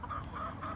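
Chickens on a rural property clucking close by, a short burst of repeated, rhythmic clucks with no one talking.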